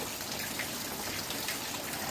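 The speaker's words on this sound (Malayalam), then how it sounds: "രാവിലെ മുതലേ ഈ മഴയാണ് കണ്ടോ" Steady rain falls continuously, a dense even patter of drops on surfaces close by, with no voices.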